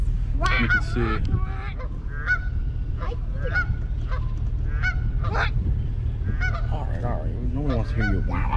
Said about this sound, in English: Hello, gooses.